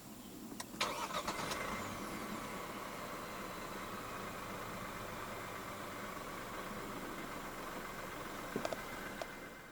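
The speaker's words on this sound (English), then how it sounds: "Put your foot on the brake and press the start button to the left of the steering wheel." A 2024 Proton S70 1.5T turbo petrol engine starts by push button with a short crank, then settles into a steady, even idle that runs unbroken with no voices.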